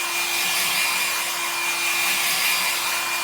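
A hair dryer blows steadily over a leather surface freshly coated with protector spray, a constant close airy roar with a faint whine, alone and without talk.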